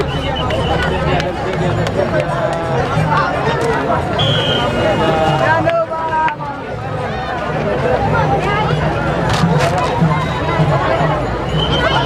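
A dense crowd of pilgrims at the 2024 Sant Dnyaneshwar Maharaj palkhi procession, filling the air with loud, continuous close-by babble and chatter, many voices overlapping without a break.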